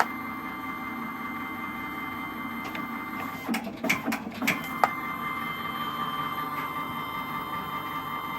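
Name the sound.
Magnum MC 35 creaser perforator feeding and creasing paper sheets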